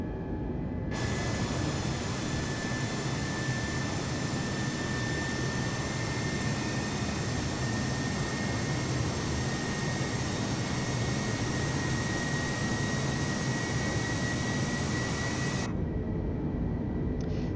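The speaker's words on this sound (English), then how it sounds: "That is a very steep takeoff path right there that the autopilot is taking" An EasyJet Airbus A320neo takes off from Gibraltar in Microsoft Flight Simulator 2020, its jet engines producing a steady, loud, broadband roar that holds for about fifteen seconds before cutting off.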